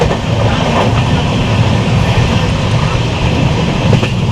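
Sikkim Mahananda Express rumbling steadily through an intermediate station on the Alipurduar–Siliguri line in the Dooars, a loud continuous roll of wheels and carriages with faint clickety-clack throughout.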